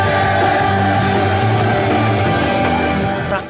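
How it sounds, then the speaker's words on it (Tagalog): A festival crowd at the Tanglawan Festival 2024 night concert shouts and cheers loudly, a dense, continuous roar with music mixed in that tapers off slightly at the end. "hiyawan"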